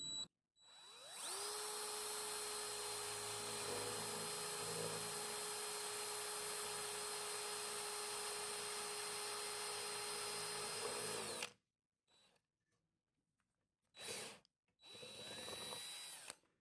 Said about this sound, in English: drill a hole into the bottom, going right into the wooden dowel.